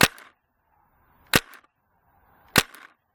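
Three sharp paintball marker shots spaced about a second apart, fired at a target 30 meters away on an outdoor range; each crack is loud and close with a brief tail, and the gaps between are silent.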